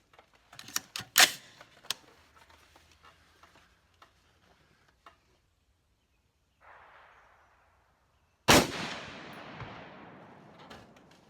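An Olympic Arms 6.8 SPC rifle topped with an SWFA 1-4x24 scope fires two loud, sharp shots several seconds apart, each with a ringing tail, separated by quiet mechanical clicks and handling noises.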